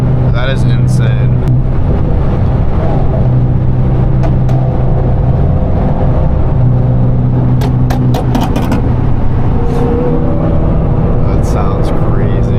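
A 1,000 hp turbocharged Audi R8 V10 fitted with an F1 exhaust roars continuously at high revs, loud and close from the cabin, with short bursts of talking over it.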